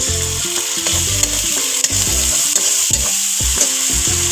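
Tomato paste hits a hot pan of frying ginger-cumin paste for a vegetarian potol roast, giving a loud, steady sizzle with constant scraping and stirring of a spoon against the pan, close up and without talk.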